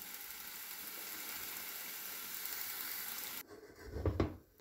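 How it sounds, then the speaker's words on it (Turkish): Beet leaves braise with onion in a covered pot over low heat, cooking in their own juice without added water. A steady, soft sizzling hiss runs for about three and a half seconds, then cuts off, followed by a brief low clatter. "Pancar yapraklarım aşağı yukarı 7-8 dakikadır kısık ateşte kaynıyor."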